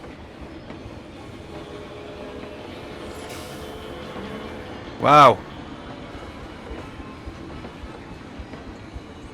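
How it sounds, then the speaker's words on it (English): Coaster train from the Planet Coaster game rumbles steadily along its track, with a brief louder rush of rattling and squealing in the middle; a voice speaks briefly over it. "Our train's going."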